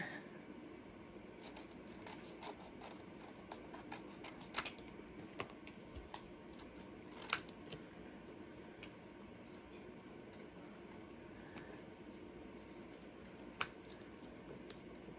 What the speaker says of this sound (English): Let me cut these out.